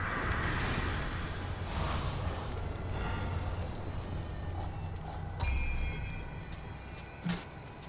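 Horse hooves galloping in the video game Nioh, a steady clip-clop rhythm carried under a continuous rumbling game soundscape, with brief sharp accents late in the run.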